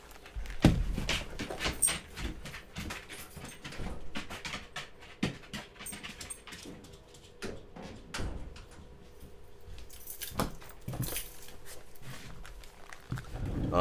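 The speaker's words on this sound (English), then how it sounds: "you won't hear any more dog noises" A dog pants and moves about nearby, with scattered thuds, taps and rustles over a soft, steady background hum across the whole stretch.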